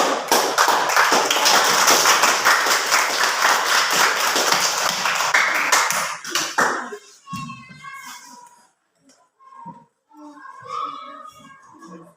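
A classroom of students claps loudly and densely for about six seconds after group presentations, then the clapping stops abruptly and a voice speaks over a quiet room.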